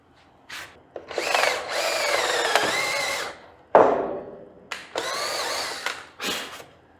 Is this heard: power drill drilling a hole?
yes